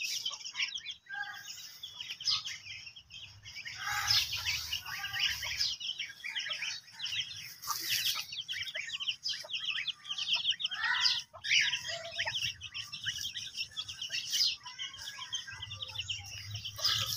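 Ducks and ducklings, a chicken and cockatiels in a small backyard fill the air with overlapping chirps, peeps and clucks, close and busy, with no talking.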